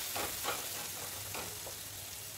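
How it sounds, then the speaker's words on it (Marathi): Chicken pieces frying in oil in a pan for a hotel-style chicken curry while being stirred, a steady close sizzle with soft periodic scraping strokes of the spoon, no voices. "हे पहा, आता एकदम तेल सुटेपर्यंत आपल्याला हे सारखं हलवायचं आहे."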